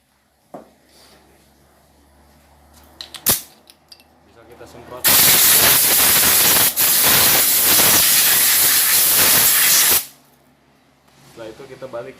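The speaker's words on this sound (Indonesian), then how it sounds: "bisa kita semprot." Spray cleaner blasted onto a scooter CVT part, a loud continuous hiss lasting about five seconds after a sharp clank, with faint workshop noise around it.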